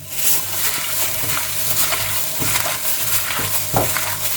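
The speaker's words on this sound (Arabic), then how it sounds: "همسك بقى كل الخلطة دي ونقعد كده ندعكها حلو مع بعض." Onion, black pepper and spices being rubbed together by hand with pomegranate molasses for chicken legs with potatoes: a loud, close, steady squelching and rustling mash with soft irregular thumps, no voices.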